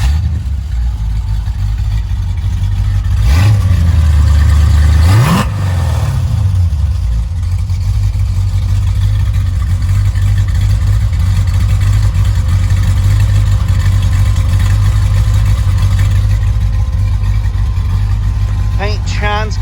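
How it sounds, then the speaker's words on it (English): A 1966 Chevy II Nova SS with a 327 L-79 V8 cranks and fires up with a quick rev, settles, revs briefly again, then holds a steady, deep idle close up for the rest of the stretch. "hear this car start up here"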